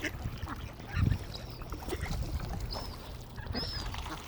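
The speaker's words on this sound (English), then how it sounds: "there's the ducks over there" Ducks being fed by water, with scattered faint quacks and splashing amid outdoor ambience, some gull-like calls mixed in at a moderate distance.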